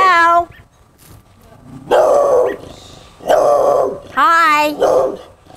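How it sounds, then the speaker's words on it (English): A dog barks and growls up close, harsh loud bursts with a yelping, whining edge, repeated several times with brief gaps in between. "I was checking out your dog."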